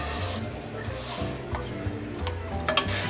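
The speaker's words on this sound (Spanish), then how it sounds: "Ponemos un chorrito de aceite en un sartén hondo o cacerola." Oil in a deep pan or saucepan sizzles in a close, steady crackle, with light scraping and clinks from stirring mixed in.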